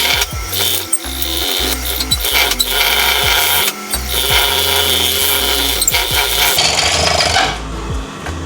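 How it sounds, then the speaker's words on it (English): A sewing machine stitching around the raw, fraying edges of dress fabric, running in a steady fast mechanical rhythm with brief stops and restarts, close and loud, ending as the motor winds down. "I'm just gonna stitch around the raw edges because this fabric frays quite a bit"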